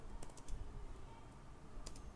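Keys of a computer keyboard clatter in short bursts while code is entered in C++, with several quick clicks near the start and another small cluster near the end, close and moderately quiet with no talking.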